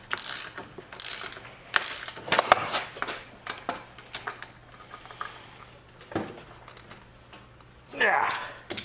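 Ratchet tightening the track on a homemade snow dog, bursts of rapid clicking strokes repeated several times close up, with pauses and soft handling noises between.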